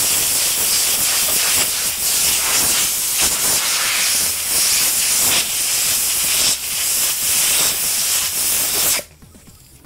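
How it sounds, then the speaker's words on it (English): Compressed air blasts steadily through a car air filter, a loud continuous hissing rush with slight fluctuations, cutting off abruptly near the end. "So I've got the air compressor to cool me down today, but I'm also going to use it on the air filter."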